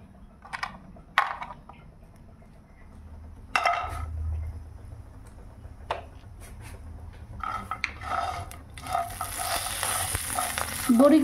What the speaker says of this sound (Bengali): ভাজতে দিয়ে দিলাম।